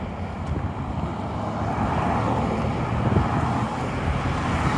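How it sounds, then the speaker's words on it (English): Steady broadband traffic rumble from cars passing along a road near Alderney Landing and Windmill Road, continuous and moderately loud, with a touch of wind on the microphone. "A little bit of road noise comes from the cars, but shouldn't be too bad"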